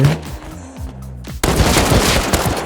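Rapid automatic AK rifle gunfire in a first-person shooter game set in an underground base, a quiet tonal stretch giving way to a sudden loud, dense burst of shots that continues to the end.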